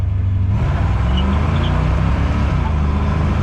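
Car fitted with an Edelbrock carburetor and 3.73 gears pulling hard in first gear, a loud close low engine rumble rising in pitch as it accelerates.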